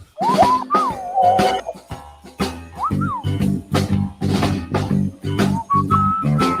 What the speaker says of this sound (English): You need a whistle, like the taxi.